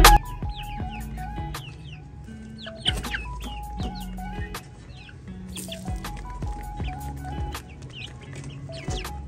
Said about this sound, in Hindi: वो दोनों मुर्गियाँ निकली हैं